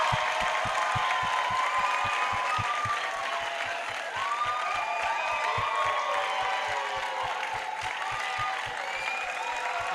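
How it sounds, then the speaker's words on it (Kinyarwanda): An audience applauds at an award presentation, with many hands clapping in a dense, steady patter throughout and crowd voices murmuring underneath. "So much hand claps."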